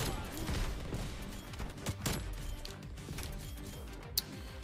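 Sniper rifle shots in a Black Ops Cold War hardpoint match, a few sharp cracks over steady gunfire and battle noise, with one crisp report standing out near the end.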